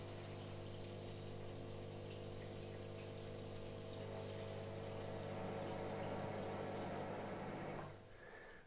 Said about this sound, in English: I first need to make sure that the water is drained from the steam cylinder.